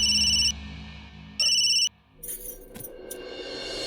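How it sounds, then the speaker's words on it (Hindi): A phone rings in two electronic bursts separated by a pause, followed by faint clinks and rustling nearby. "अरे काहे फोन नहीं उठा रहा अमितवा?"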